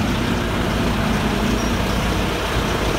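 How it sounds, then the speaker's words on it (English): A tractor trailer truck rolls into a truck wash, its engine a steady low rumble and hum filling the space continuously, with no talk over it. "as you can see, we have a tractor trailer entering the wash."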